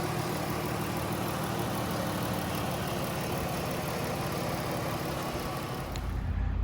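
A 2015 Chrysler Town & Country Touring with a 3.6 liter V6 and 99,000 miles idles under the open hood, a steady, smooth mechanical hum with a faint whine, close and unbroken for the whole stretch.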